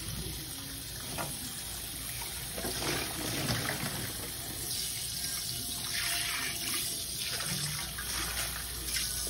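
Cold water gushes steadily from a kitchen tap as softened pili nuts are rinsed, a continuous close splashing flow with slight shifts in intensity throughout.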